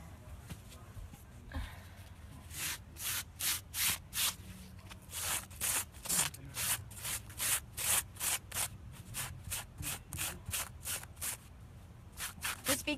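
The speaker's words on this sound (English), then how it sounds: "Just be careful that you don't sandpaper it too much that the thread of the fabric breaks" Sandpaper scrubs costume fabric to weather it, a run of rhythmic rasping strokes, quick and evenly spaced, close and fairly loud over a quiet background.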